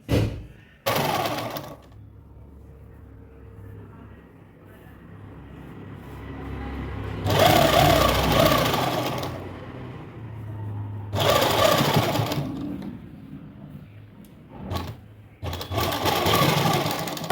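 Close by, a sewing machine stitches lace onto palazzo pants in several bursts: a brief first one, then longer whirring runs of a second or two, separated by quieter handling pauses.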